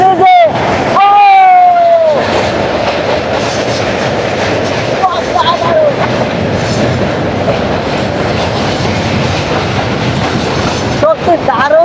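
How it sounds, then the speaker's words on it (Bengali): Local train crossing the Hardinge Bridge over the Padma river, rolling loud and close with steady clattering wheels and metallic rumble, sharp wheel squeals and horn-like tones near the start, continuous throughout. "একটি লোকাল ট্রেন যেটি হচ্ছে চাঁপাইনবাবগঞ্জ থেকে ছেড়ে আসছে"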